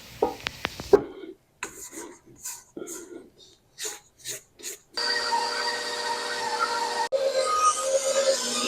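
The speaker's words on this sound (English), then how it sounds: "We're going to let it knead at this speed for about 2 minutes." A stand mixer kneads taco dough at about medium speed, setting 4, with a steady motor drone in the last few seconds after an earlier stretch of talk and scattered knocks and scraping.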